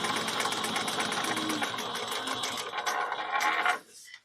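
A sewing machine top stitches the opening of a bag pocket an eighth of an inch from the edge, running in a steady, rapid, close-up stitching whir for nearly four seconds before stopping abruptly.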